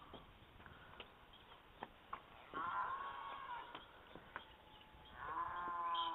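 Cattle lowing in rural countryside near Cali, Colombia, among bamboo groves and cleared hillside forest, faint and distant, with two drawn-out moos standing out over quiet outdoor background.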